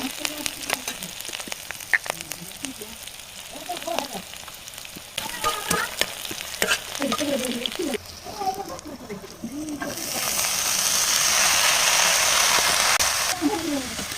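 Whole cumin, chilli and garlic fry in oil in a wok, crackling and spattering in bursts, with stirring scrapes and a louder steady sizzle building toward the end; a person talks over much of it.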